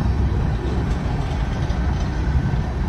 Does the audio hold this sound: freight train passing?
yes